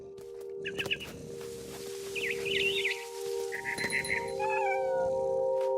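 Cat meowing in the video game What Remains of Edith Finch, several short close meows and yowls in a row over a sustained musical drone, with bird chirps near the end.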